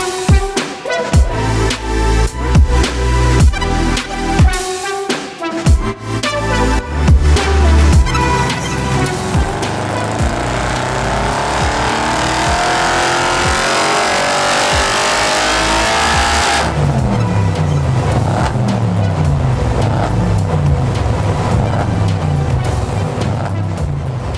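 A Stage 3 tuned Audi RS6 on a dyno roars loudly at wide open throttle, its engine pitch climbing steadily through a long sustained pull before settling into a lower, steady drone.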